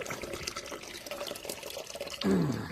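Water runs from a tap and fills a container outdoors at a farm, a steady splashing pour that grows louder and fuller near the end, with faint background noise.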